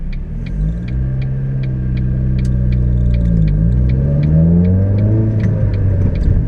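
A 2002 Ford Focus SVT engine breathing through a non-stock aftermarket exhaust revs up and down, its steady loud rumble rising and falling in pitch over several seconds, close by with no talking.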